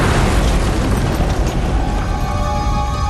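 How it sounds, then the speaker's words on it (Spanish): A pickup truck explodes just as it is started, producing a loud, dense roaring blast that fills everything and stays sustained and rumbling without fading. "se produjo una explosión"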